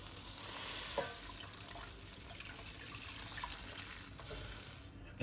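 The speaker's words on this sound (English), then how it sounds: "Now we'll add in 1 liter of water." One liter of water poured into a pot during one-pot Singapore-style shrimp Hokkien mee pasta cooking, a steady splashing pour running for several seconds with a sizzle underneath, fairly close.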